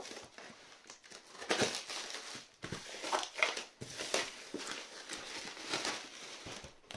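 A knife cuts open the cardboard box of an Umarex .177 racegun kit under plastic film, with close crinkling, scraping and tearing in irregular bursts and pauses.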